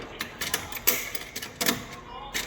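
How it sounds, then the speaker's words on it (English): Winchester rifle loading mechanism worked by hand in quick succession, producing a close series of sharp metallic clicks and clacks in irregular bursts, with faint voices in the background. "how fast you can load a Winchester rifle. Just like that. That's the mechanism."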